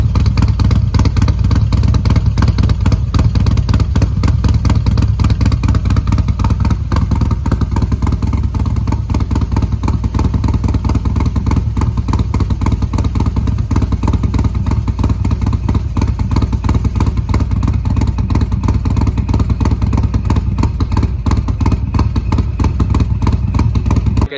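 A 2019 Harley-Davidson Street Glide with a 128 Muscle Kit idles at Sturgis, a loud, close, continuous engine rumble with a fast, even lumpy throb throughout.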